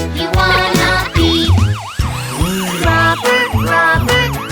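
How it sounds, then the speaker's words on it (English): A wailing emergency vehicle siren sound effect, its rising and falling sweeps cycling repeatedly, loud and close, layered over a bouncy nursery rhyme music track. "Sirens on, here we go."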